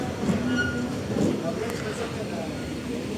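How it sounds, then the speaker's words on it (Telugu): Amrit Bharat Express train pulling away from Kayamkulam Junction, a steady low rumble with faint squeals and clatter, voices murmuring under it. "కాయంకులం జంక్షన్ నుంచి మన ట్రైన్ అయితే స్టార్ట్ అయిపోయింది"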